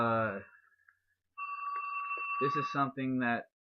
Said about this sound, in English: I'm sorry, my phone's ringing